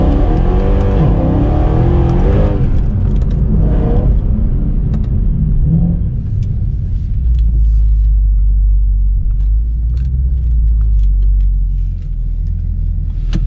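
A Mercedes C63 Black Series engine revs hard and loud up close, then settles into a deep, rumbling idle that continues to the end.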